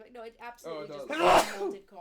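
A single sharp sneeze breaks out amid someone talking, loud and close, landing between stretches of speech.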